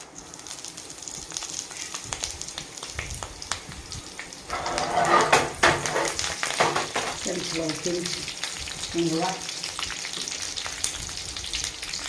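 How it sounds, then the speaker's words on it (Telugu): Mustard seeds and urad dal dropped into hot oil, a sudden burst of close crackling sizzle that pops and spatters, with birds cooing in the background under a steady hiss. "కొన్ని ఆవాలు మినపప్పు వేస్తున్నానండి"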